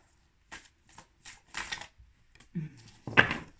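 Oracle cards from a Féminitude deck are shuffled and drawn, several short dry riffles and slides in quick bursts against silence, ending in one louder flurry.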